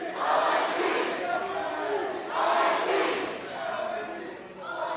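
A wrestling event crowd roars and cheers in big swelling waves, loud and continuous throughout, with no clear voice standing out above the noise.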